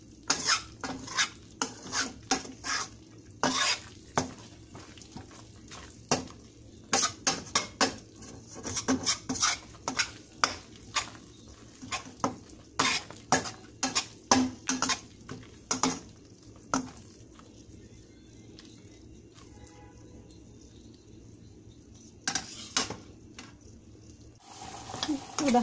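A spoon stirs pineapple jam filling for nastar in a pan, giving repeated scraping clatters in bursts with a soft sizzle beneath and quiet pauses between strokes.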